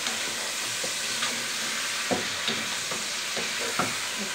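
Turnip and mixed vegetables cooking with prawns in a pan, a continuous close sizzle broken by several soft scraping knocks as a spatula stirs and turns the pieces.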